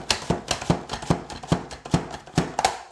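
A knife slices through onion for hobo dinners in a steady run of about nine crisp cuts, each ending in a sharp tap on the board, evenly spaced and close by.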